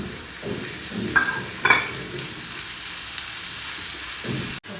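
Small-cut squid pieces drop into a pan of frying onions for Kozhikode-style stuffed squid, raising a steady close sizzle broken by a few sharp clinks and scrapes of the spoon.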